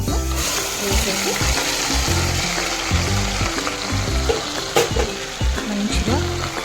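Grated bottle gourd sizzles steadily in a hot pan, a continuous crackling fry with occasional stirring scrapes while someone talks over it.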